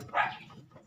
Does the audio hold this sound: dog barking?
yes